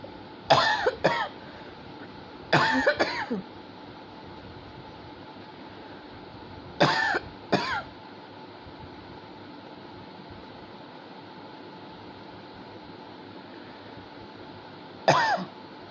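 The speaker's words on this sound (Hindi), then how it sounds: "थोड़ी खांसी आ गई थी" Several short bursts of coughing, in pairs and a single one later, over a quiet steady hum of background noise.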